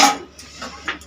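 Cabbage cooking with peas in a home kitchen gives a few brief metallic knocks and clinks of a pot and utensil against a low background hiss.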